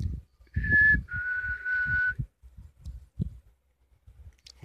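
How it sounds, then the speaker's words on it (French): A person whistles two clear notes, a short high one and then a longer, slightly lower one, with soft thumps and rustling around them. "Je vais siffler un coup."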